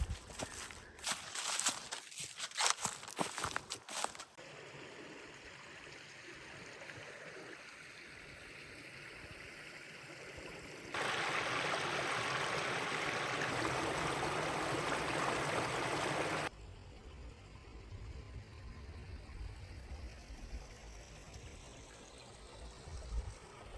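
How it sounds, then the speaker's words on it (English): Flowing creek water along a hiking trail in Brown County State Park, Indiana, a soft continuous rushing trickle that swells louder midway, with crunching footsteps at the start. "The creek really cooled the air down around us and gave us a serenade."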